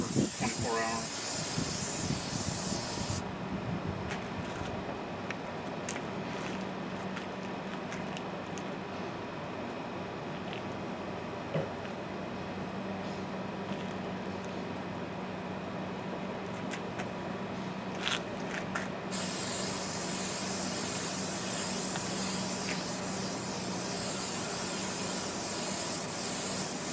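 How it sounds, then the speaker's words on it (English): Permethrin insecticide sprays onto clothing in a long, steady, loud hiss that runs nearly unbroken for the whole stretch, close up and alone with no talking. "You have to spray it on and let it sit for 24 hours."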